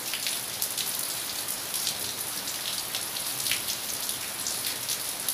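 Steady rain pours down on surfaces close by, a dense, even hiss with scattered drop patter throughout, with no voices and no thunder.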